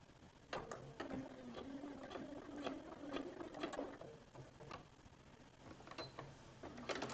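A sewing machine running a long basting stitch, its needle mechanism ticking and whirring in quick rhythmic bursts with brief pauses, fairly faint and close, with no talking.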